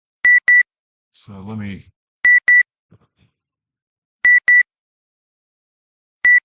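Bright electronic double beeps from a drone detection system repeat every two seconds, loud and clean, with a brief spoken phrase between them.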